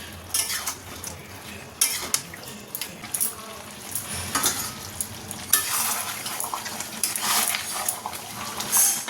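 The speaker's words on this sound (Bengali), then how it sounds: "দিয়ে দেবো চিকেনটা যেহেতু অনেকক্ষণ ম্যারিনেট করে রাখা ছিল তাই একদমই বেশি সময় লাগবে না" Marinated chicken fries in a wok-style pan, with sizzling under repeated stirring, scraping and clinks of a utensil against the metal. The sound is close and busy for the whole stretch, with no speech.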